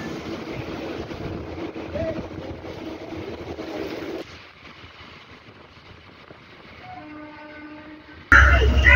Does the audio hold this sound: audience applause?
no